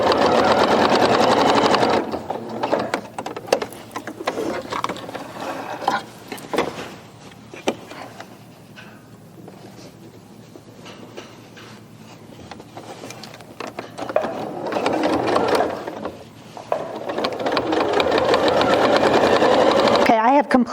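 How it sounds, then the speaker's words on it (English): A sewing machine stitches binding strips onto a quilt top, whirring in steady runs that stop briefly in the middle and then resume, while someone talks over it. "I'm going to sew just like I normally would to the top of my quilt. So I'll just sew here for a little bit."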